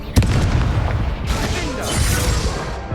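In the video game Hogwarts Legacy, a Confringo fire spell explodes during a magical duel, giving a sharp opening burst followed by rolling booms and crackling blasts, loud and close.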